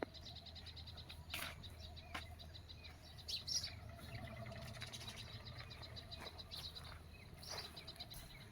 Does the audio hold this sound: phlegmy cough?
no